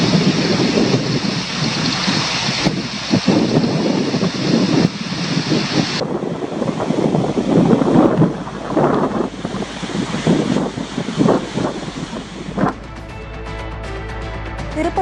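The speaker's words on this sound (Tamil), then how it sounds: "அங்குள்ள புலவிச்சார் அருவியில் நீர்வரத்து அதிகரிக்க தொடங்கியுள்ளது" Rain-swollen Pulavichar waterfall during steady drizzle, water rushing with a loud, broad roar and wind buffeting the microphone, shifting abruptly in tone as the scene changes.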